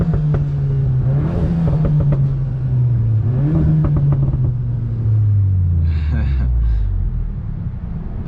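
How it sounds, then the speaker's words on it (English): Tuned VW Jetta GLI with a non-resonated, muffler-free AWE track exhaust and EQT burble tune, revved twice close up, then falling back with a string of crackling pops and burbles as the revs drop, loud and unmasked. "I have an AWE track exhaust, so it's non-resonated, no mufflers, and EQT software actually has a burble tune"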